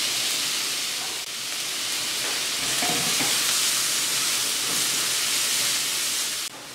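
Onion, garlic paste and leek fry in olive oil in a pan with a loud, continuous close sizzle and hiss, with faint stirring underneath and no talking.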